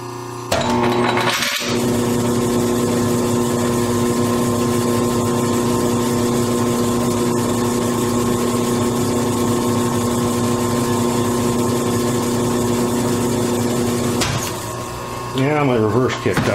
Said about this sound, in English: what's going on in the machining process as we continue to try and get the face of this thing evened up